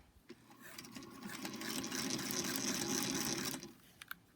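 A sewing machine slowly stitches a line on a quilt sampler with an edge joiner, a close mechanical whir that builds up, holds for about two seconds, then stops, followed by small clicks.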